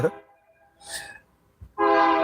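A train horn sounds in short bursts: a brief blast, a pause, then a longer sustained tone that holds loud at the end, with quiet gaps between.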